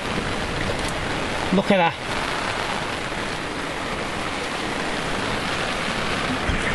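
Heavy rain pounds steadily on a sailing boat's rain cover, a dense continuous hiss throughout, with someone speaking briefly near the start.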